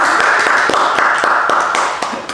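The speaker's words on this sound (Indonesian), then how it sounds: "Tepuk tangan yang meriah, Bu Kausen." Audience clapping during an Indonesian podcast session, a dense patter of hand claps with some sharper individual claps standing out near the front, fading slightly toward the end.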